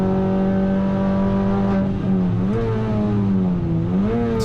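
Mini Cooper and Cooper S race cars in a Scottish cup race roar into a hairpin. Loud, steady engine drones shift and dip in pitch as the cars brake and turn, with no voices.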